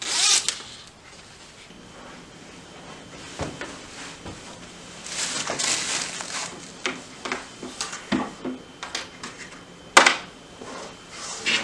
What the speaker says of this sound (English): Unzip your zipper.